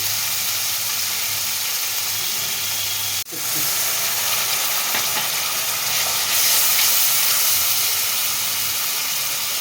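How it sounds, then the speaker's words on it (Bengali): Ginger-garlic paste and onion paste frying together in a pan for a pumpkin and prawn curry, giving a continuous hissing sizzle that dips briefly once and then swells a little louder near the end, with no voices. "আদা রসুনের বাটা পেঁয়াজ আদা রসুন একসঙ্গে একটু ভেজে নিচ্ছি"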